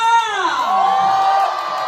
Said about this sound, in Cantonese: 讓你哋嘅掌聲同埋呼聲俾我哋後台嘅主創成員聽下啦